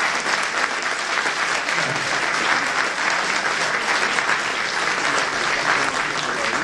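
A large crowd applauds steadily and loudly, the thick wash of clapping holding an even level for several seconds without any speech over it.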